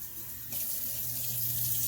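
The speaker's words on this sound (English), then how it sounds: "Isaac, cold water on. Cold water" Cold water gushes from a faucet into a sink, starting abruptly after a brief pause and then rushing in a steady, close, fairly loud stream with no voices.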